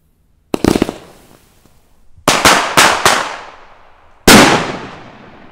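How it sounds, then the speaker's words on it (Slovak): A homemade seven-shot firework cake with a central banger ringed by weaker small firecrackers goes off outdoors, giving a quick cluster of sharp bangs, then a rapid run of four pops and a final loud blast. "Ideme si odpaliť takýto domáci kompakt, má 7 rán, v strede je klasická dumbumka, okolo sú nejaké slabé labomby."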